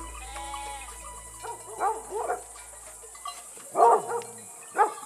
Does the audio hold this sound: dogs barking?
yes